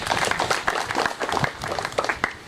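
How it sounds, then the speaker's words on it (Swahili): Applause at a Sacco annual general meeting as the crowd claps for the minister, dense overlapping hand claps filling the hall steadily for a few seconds. "Haya, tukune makofi waziri"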